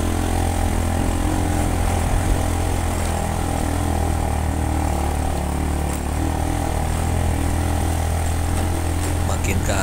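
A motorcycle engine labors in first gear climbing a steep hill, with a steady, close, droning roar that holds without letup.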